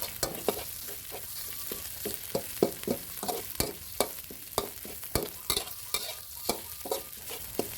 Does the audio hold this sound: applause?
no